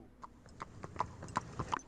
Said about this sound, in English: old Abraham comes around in the horse and buggy